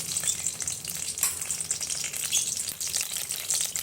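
Nigella seeds and whole dried chillies sizzle and crackle loudly in hot oil, a busy, continuous spitting fry heard up close without voices.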